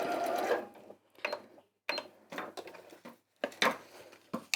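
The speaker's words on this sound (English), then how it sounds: "it's not even struggling to get through 1, 2, 3 layers of wadding and 3 layers of" A sewing machine stitches through three layers of wadding and three layers of fabric in short, quick mechanical bursts of rapid clatter, separated by brief pauses.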